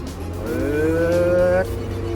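A TCM E840 wheel loader with a dozer blade revs its diesel engine, the pitch climbing steadily for about a second before cutting off sharply and dropping back to a low, steady idle rumble.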